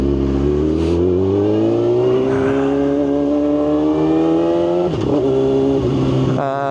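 A motorcycle ridden in cold weather accelerates with a steady, loud engine drone rising in pitch, broken by brief quick-shifter gear changes near the end, with no talk.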